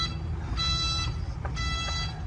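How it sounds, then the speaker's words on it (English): A new SDLG C80 wheel loader sounds its reverse safety alarm: two clear, evenly spaced electronic beeps over the machine's low engine rumble, close and loud. "Reverse, got a nice reverse beep, safety precaution beep."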